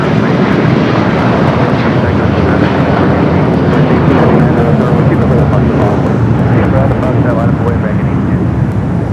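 A Boeing 757 jet bound for Honolulu roars steadily and loudly, a continuous broad engine rumble with voices faintly mixed in.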